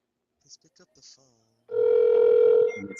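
Placing a telephone call brings a few faint clicks and murmurs, then a single loud, steady ringback tone that lasts about a second before cutting off.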